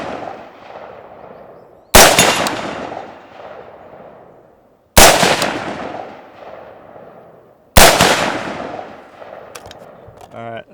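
Three loud, sharp rifle shots fired through a scope at a steel target 75 away, evenly spaced by a few seconds, each with a long echoing decay outdoors.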